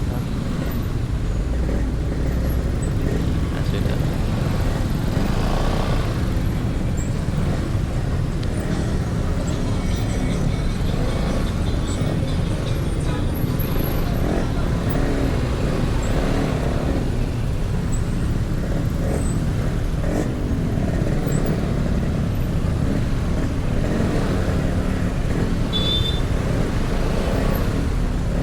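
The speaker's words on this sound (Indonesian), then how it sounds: "banyak truk juga yang lewat, bis-bis juga baru keluar" Busy road traffic on the way from Ciledug to Bogor, with trucks and buses passing and minibuses cutting across, heard from a Yamaha Vega R motorcycle as a steady loud roar with wind; someone speaks briefly.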